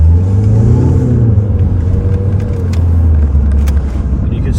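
A Volvo V40 Cross Country D3 diesel accelerates hard off a roundabout, its engine note rising and pulling strongly through the gear, loud and close from inside the car.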